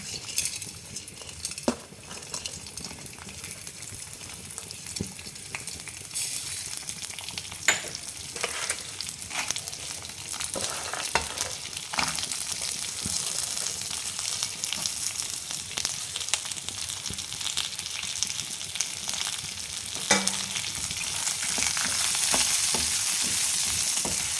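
Ingredients frying together in a spoonful or two of oil in a pan on the stove for a Karnataka-style country chicken curry, a long soft sizzle broken by frequent sharp clinks and scrapes of a stirring spoon.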